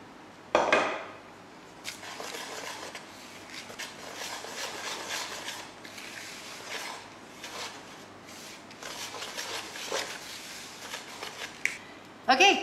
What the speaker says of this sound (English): Now I'm going to add those processed oats in here, and I'm going to whisk this.